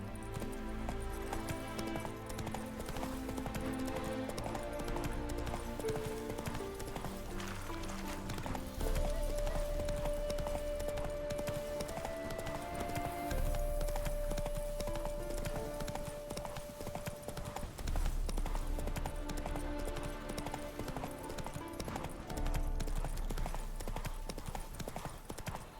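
Horse hooves clip-clop at a steady gallop in The Witcher 3, repeated rhythmic thuds under game music with an occasional whinny, fairly faint and continuous.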